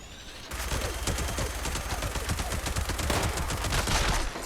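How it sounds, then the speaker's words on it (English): Pepper Shaker gun in Fallout 76 firing plasma rounds in a continuous rapid stream of dense, overlapping shots, loud and steady for several seconds with no talking. "Next, we tested the Pepper Shaker using the plasma magazine."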